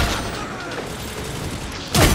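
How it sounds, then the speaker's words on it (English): Video game explosions: a muffled rumbling mechanical clatter, then a sudden loud burst near the end. "You gotta love the explosions"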